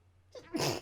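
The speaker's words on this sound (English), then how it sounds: "please don't make fun of my sneezes in the comments" One short sneeze: a quick sharp inhale and then a loud burst of air, close to the mic.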